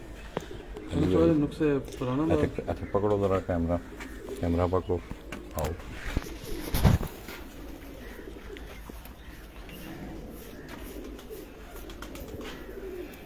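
Chinese-breed pigeons coo softly in a loft while someone talks loudly nearby, their low calls partly masked by his voice.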